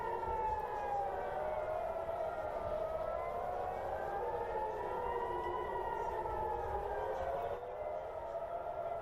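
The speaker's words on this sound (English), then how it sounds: "it does appear more sirens going off there" Air raid sirens wail continuously, rising and falling in long overlapping tones, heard from a distance with a steady background rumble.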